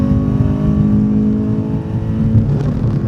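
A race car's engine roars loudly from inside the cabin on the Phillip Island track, a steady, strong harmonic drone that holds throughout with a slight swell in pitch.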